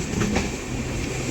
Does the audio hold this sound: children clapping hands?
no